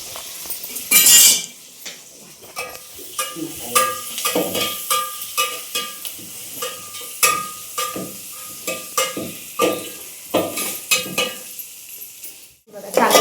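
Ginger-garlic paste, chili and onion masala frying in a pot over a wood-fired clay stove, with repeated rhythmic clinks and scrapes of a spoon stirring against the metal pot over a soft sizzle.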